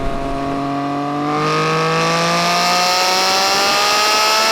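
A 2018 Triumph Speed Triple 1050 RS motorcycle, a 150-horsepower triple, shifts down with its quickshifter, the engine note stepping and rising through a loud, close, sustained revving howl with no talking.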